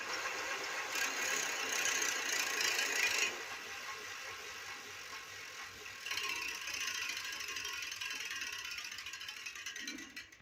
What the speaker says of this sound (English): we rotate the backside of wheel of the bicycle with a high speed and touch the knitting needle with the wheel